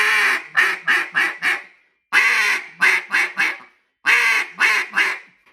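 A stiffly tuned duck call imitates a raspy, hard-hit hen mallard in three loud, close sequences, each a long lead quack followed by three or four shorter, descending quacks, with brief pauses between.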